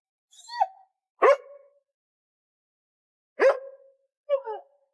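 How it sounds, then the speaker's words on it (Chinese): A dog barks outside at night in a film scene, four separate sharp barks in two pairs with silent gaps between, close and clear with no other sound. "外面的狗子再次叫了起来"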